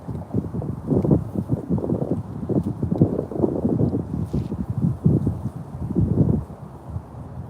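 Gusty wind buffets the microphone in low rumbling bursts, steady and fairly loud throughout, with no voices, outdoors while bass fishing at FDR Park.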